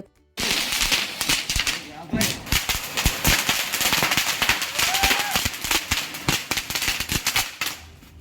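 Firecrackers bursting during a family Diwali celebration at home, a dense run of sharp cracking bangs that fire almost continuously, loud and close, with voices now and then underneath.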